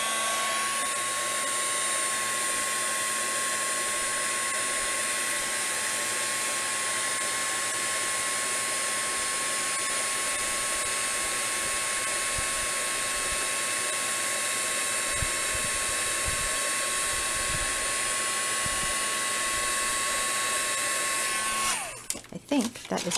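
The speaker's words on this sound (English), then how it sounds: "And my heat gun." A heat gun blows hot air steadily to melt foil onto a handmade birthday card, a continuous close whooshing hum with a faint whine that runs for about twenty seconds before cutting off abruptly.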